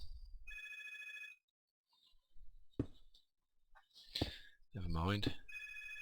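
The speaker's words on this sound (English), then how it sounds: "Oh, there goes the phone." A telephone bell rings in bursts, loud and close, interrupted by pauses, clicks and someone speaking between the rings.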